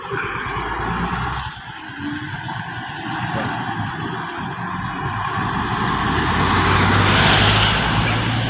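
Steady road traffic at a traffic light: car and truck engines rumble close by, swelling slightly louder toward the end, with little talk.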